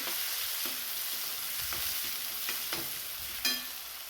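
Chopped onion and green chili frying in a kadai give a soft, steady sizzle, broken by several scrapes and taps of a stirring spoon and one sharper clank near the end, with no voices.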